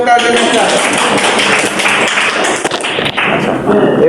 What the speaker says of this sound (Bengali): আচ্ছা হাততালি হোক কার জন্য।